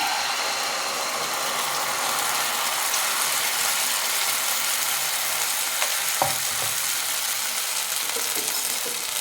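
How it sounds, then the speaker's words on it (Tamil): Coconut dosa batter hitting an oiled hot pan, a loud continuous hiss of sizzling with a few faint clinks and scrapes near the end. "இந்த மாவை இப்போ நம்ம பேனில் ஊற்றிடலாம்"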